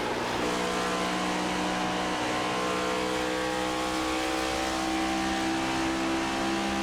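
Stock cars race at speed around the Pocono oval in a Cup Series event, loud sustained engine drone with steady whining harmonic tones that hold and slowly shift, no voices over it.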